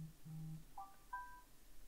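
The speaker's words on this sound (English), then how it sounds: "Oh, and my phone's making noises." A mobile phone gives off a few faint, short electronic notification tones, a low beep followed by higher chirps, heard alone in a quiet room.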